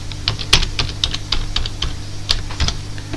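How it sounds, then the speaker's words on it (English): Password being typed on a computer keyboard on a Mac: a run of separate keystroke clicks in an uneven rhythm, close and fairly crisp, with no talking. "So we shall type in the password here"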